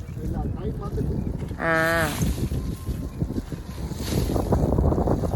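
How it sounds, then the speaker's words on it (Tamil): Strong wind blows across an open village field, a loud, steady rushing roar that buffets the microphone throughout, with someone talking over it. "செம்ம காத்தடிச்சு கொண்டிருக்குது."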